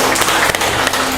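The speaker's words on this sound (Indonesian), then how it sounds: "Tepuk tangan dulu." An audience at a military bureaucratic-reform talk applauds, a dense burst of clapping heard close and loud throughout the short moment.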